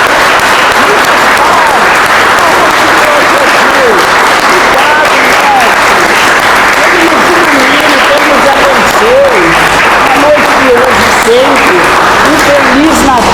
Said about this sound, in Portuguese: uma salva de palmas para nosso Senhor Jesus Cristo.